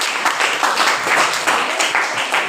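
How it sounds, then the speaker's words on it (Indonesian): A classroom group claps for presenting student groups 1 and 2, producing brisk, steady, moderately loud applause that runs evenly throughout with no voices on top. "Ayo, beri aplaus untuk kelompok 1 dan 2."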